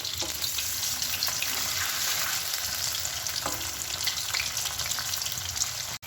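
Paneer pieces frying in hot oil, a continuous close sizzle with faint stirring scrapes, heard alone with no voices and cutting off abruptly at the end.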